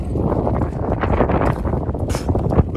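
Gusty wind buffets the microphone outdoors, a continuous loud rumbling roar with brief rushing surges.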